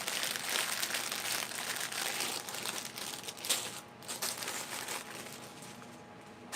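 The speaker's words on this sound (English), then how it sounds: "This audio probably sounds horrifying as I'm shuffling these bags around." Plastic bags are shuffled and crumpled nonstop at close range, a loud, dense crinkling that runs throughout with no talk over it.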